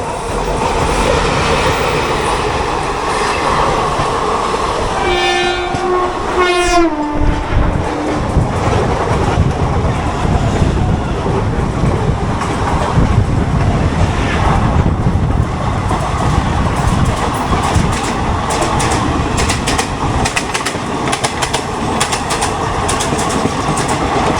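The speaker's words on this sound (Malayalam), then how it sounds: "അപ്പോൾ അങ്ങനെ നന്ദിഗ്രാം എക്സ്പ്രസ് പോയി." Nandigram Express passenger train rushing past close by with a loud, steady roar and rhythmic clickety-clack of wheels on rail joints, a brief horn blast near the start and the noise fading slightly toward the end.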